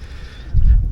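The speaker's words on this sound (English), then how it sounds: "that's the sound of bombs in Gaza" A deep, distant boom rumbles in the last half second after quiet wind noise, a single low thud of far-off bombs exploding in Gaza.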